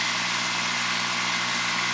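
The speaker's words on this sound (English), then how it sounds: "I think I'm gonna use this tractor on that too. I'm gonna use it because it's lightweight" A small lightweight tractor engine idles nearby with a steady, even mechanical drone and faint vibration, holding an unchanging rhythm throughout with no voices over it.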